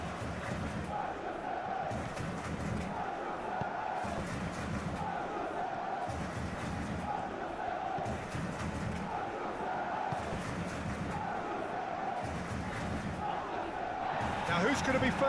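Stadium crowd in a PES 21 football video game simulation of Auxerre vs PSG in Ligue 1, a steady dense roar that swells in rhythmic surges, with a commentator talking over it throughout.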